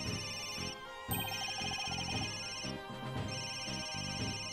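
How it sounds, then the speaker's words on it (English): A phone ringtone in Phoenix Wright: Ace Attorney - Dual Destinies plays a bright electronic melody, with the same short phrase repeating in clear cycles and no talk. "Where's that ringtone coming from?"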